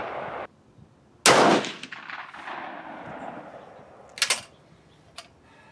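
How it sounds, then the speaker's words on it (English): A single loud K31 rifle shot cracks at an outdoor range on a cold day, close by, followed by a long fading echo and a couple of sharp metallic bolt clacks afterward. "It's my first shot with this rifle. Let's take a shot with it and"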